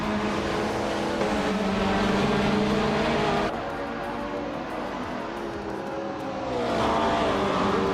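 A 1968 Porsche 909 Bergspider race car at Oran Park in a racing game, its engine holding a loud, sustained buzzing drone that eases slightly midway and then climbs again, with no voices over it.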